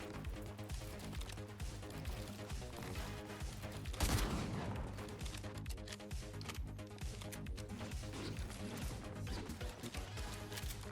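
Rapid bursts of gunfire from a mythic pistol in a video game, a faint continuous string of shots with one louder crack, over steady game background sound.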